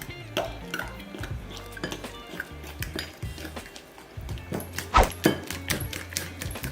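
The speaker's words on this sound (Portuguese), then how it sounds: "E agora vamos misturar" A spoon stirring a mashed banana, oat and cinnamon mixture in a bowl, with repeated close clinks and scrapes against the dish in an uneven rhythm and a few sharper knocks near the end.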